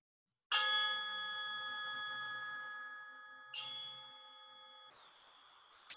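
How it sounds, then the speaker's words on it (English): A yoga-session gong rings out with a clear, sustained metallic tone, struck once and then again about three seconds later, each strike fading slowly in a quiet room. "1 more gong"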